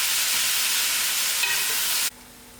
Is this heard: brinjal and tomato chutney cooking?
yes